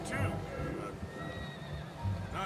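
Horse whinnies in Red Dead Redemption 2: a shrill neigh at the start and another at the end, loud and close, with hoof clops and a steady bed of game sound between them.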